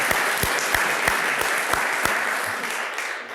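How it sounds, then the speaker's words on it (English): Audience at a civic association academic achievement awards ceremony applauding ten students, a steady wash of many hands clapping with a few distinct nearby claps in a regular rhythm, fading slightly at the end. "How about one round of applause for all 10 of those students,"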